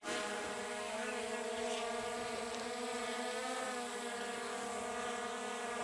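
A Skydio 2 drone hovers and edges forward near a swamp path, its steady multi-toned propeller whine droning loud and close throughout, with no talking.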